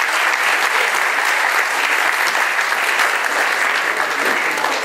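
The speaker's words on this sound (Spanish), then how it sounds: "Un aplauso a todos ustedes." An audience at a women's community event applauds steadily for several seconds, a dense and even roar of clapping with no break.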